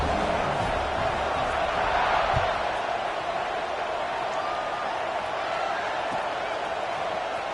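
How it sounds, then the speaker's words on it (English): A stadium crowd at a football game gives off a continuous loud buzz after a score, a dense wash of voices with no pauses. "this crowd is buzzing after that last score"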